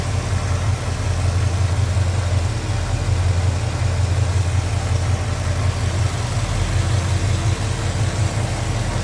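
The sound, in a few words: 1970 Chevrolet Chevelle V8 engine idling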